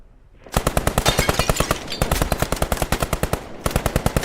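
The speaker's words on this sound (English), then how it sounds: "Looks like the MG on semi-auto." A machine gun in the World War II shooter Squad 44 fires on semi-auto in rapid, evenly spaced single shots, loud and close, in two long bursts separated by a short pause.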